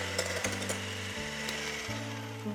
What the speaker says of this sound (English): And now I'm going to whisk in some brown sugar.